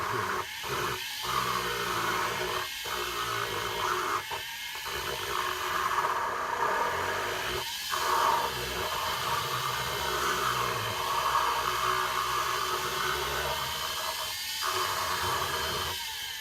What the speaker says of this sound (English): the kutzall tool is doing what it's supposed to do, and it's really grinding into the wood